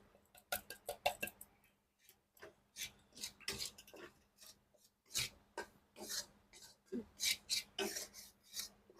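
Roasted refined-flour (maida) and milk powder being stirred in a pan for barfi, giving repeated rasping, scraping strokes in an irregular rhythm, close and fairly loud with no talking.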